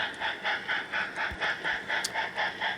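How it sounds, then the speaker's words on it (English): A model train runs steadily nearby on a 45-year-old Great Northern layout, its wheels clicking over rail joints in a regular rhythmic pattern with a light mechanical whir. "Before any ops, I run a train over the entire layout to ensure all is working."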